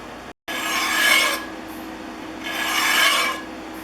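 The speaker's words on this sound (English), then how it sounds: "Next, I want to clean the corrugations out on the bottom. I use my scraping tool to do that." A scraping tool rasps along the corrugated sole of a Stanley No. 608C Bedrock jointer plane in two long, close strokes, a harsh metallic scrape with a short silent gap near the start.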